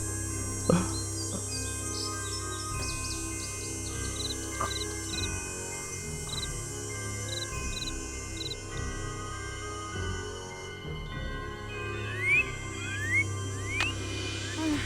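Birds chirping in the Nancy Drew: Ghost Dogs of Moon Lake video game, short tweets and quick rising calls repeating through the scene over a steady low ambient hum, moderately faint with no talking.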